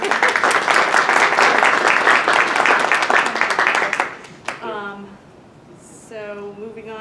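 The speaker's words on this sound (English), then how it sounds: "A round of applause." Clapping from attendees at an election board and commissioner meeting, brisk dense applause for about four seconds that stops abruptly, then a voice speaks.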